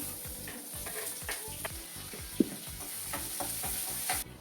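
Cumin, peanuts, curry leaves and onion fry in hot oil in a home kitchen pan, giving a steady close sizzle with occasional stirring clicks and a small pop.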